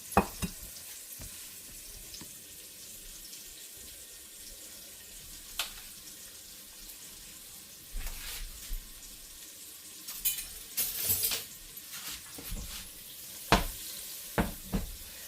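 Pork chops browning in a skillet over medium-high heat give a steady low sizzle, broken by scattered scrapes and clatters and a few sharper bursts of spattering toward the end.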